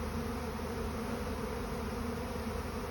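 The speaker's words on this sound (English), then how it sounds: "Thousands of bees, really." A swarm of honey bees arriving at a hive full of drawn comb makes a dense, continuous buzz, steady and loud throughout without any voices.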